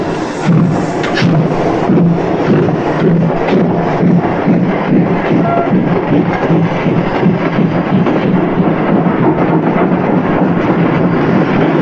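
Rumbling train ride under way, a steady loud roar of wheels and carriage with rhythmic clatter and wind-like noise throughout, continuous and close.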